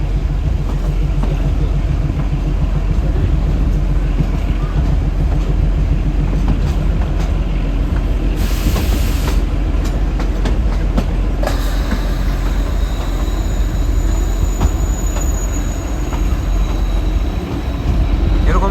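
The Shimla–Kalka toy train runs along, its cars giving a steady close rumble and clatter with brief squealing and bright noisy bursts partway through.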